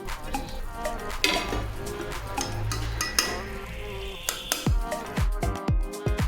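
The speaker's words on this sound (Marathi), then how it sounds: "साखर विरघळल्यानंतर त्यामध्ये खोबरे टाकून आणि व्यवस्थित मिक्स करून घेऊ." Grated coconut is stirred into dissolved sugar in a pan for coconut barfi, with scraping spoon strokes and sharp clinks against the metal over a soft sizzle, close and irregular, with no voices.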